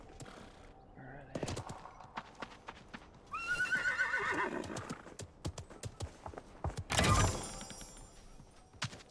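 A horse in the Realm Royale video game whinnies loudly in two drawn-out neighs, separated by hollow clip-clop hoofbeats and thumps, close and clear with no talk over it.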